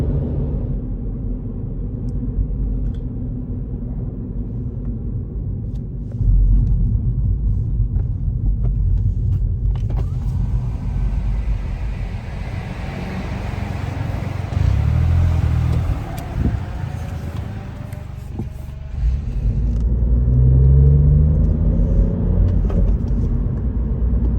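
Car cruising on an Italian autostrada during a long European road trip: steady loud road rumble and engine drone from inside the cabin, swelling slightly at times, continuous with no talk.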